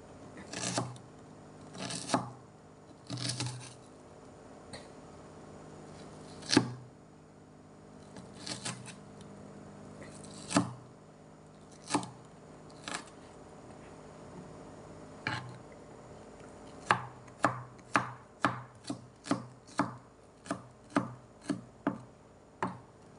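A knife chops onions and carrots on a board, first in scattered separate strokes and then in a quick, steady run of sharp taps toward the end, close and fairly quiet with no talking.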